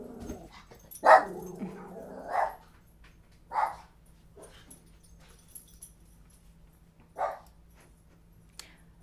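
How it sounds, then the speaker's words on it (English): Dogs barking in the distance with several separate bark bursts spread across the span, moderately loud over a steady low hum, with no talking. "The dogs definitely like to bark today."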